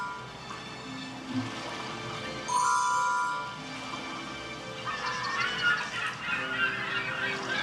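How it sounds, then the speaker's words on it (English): Seagulls call in a few loud, honking cries near the middle, with softer squawks toward the end over a faint background hiss, and no talk. "The crumbs from the tea cake may attract those seagulls."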